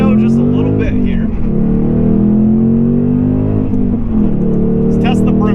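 A 2024 Mustang GT Premium with a six-speed manual roars steadily under acceleration on a test drive, its loud engine drone rising and dipping with gear changes heard from inside the cabin.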